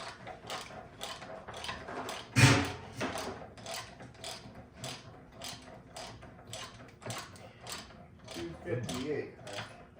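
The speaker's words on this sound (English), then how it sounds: "we're definitely going to want the half-inch torque set to 258 foot-pounds" Half-inch torque wrench ratcheting on rear hub bolts of a 2012 Ford Explorer, with a steady run of close, rhythmic clicking strokes and one louder metallic clunk.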